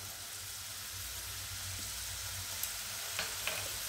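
Spices drop into hot oil with a steady, close sizzle and frying hiss, and a few light taps from stirring rise above it near the end. No one speaks.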